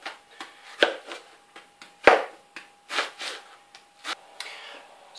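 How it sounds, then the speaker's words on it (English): An onion roughly chopped with a knife on a board, a series of sharp, irregular close thuds and cuts, some louder than others, with no talk. "And just cut your onion up roughly"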